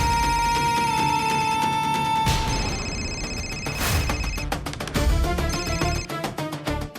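A mobile phone ringtone plays in a Marathi TV drama scene, a bright, melodic electronic tune that repeats steadily for several seconds at close range with no talking over it.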